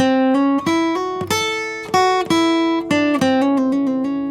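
An acoustic guitar picks a quick bluesy phrase, single notes climbing a scale and then coming back down, each pluck clear and close.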